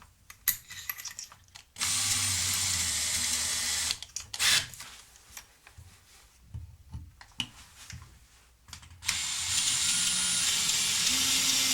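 A small power drill whirs in short bursts, drilling a small pilot hole for an old sewing machine lamp, starting and stopping several times with quieter rustling and clicks in between.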